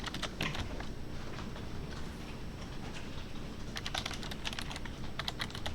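Someone types C# code for a Windows Forms program on a computer keyboard, with light clicks at first, a lull, then a denser flurry of keystrokes near the end, heard up close with no voices.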